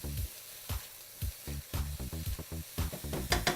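Cauliflower rice and vegetables sizzle in a skillet, with a soft steady frying hiss broken by rhythmic scraping and stirring strokes, fairly quiet and close with no talking.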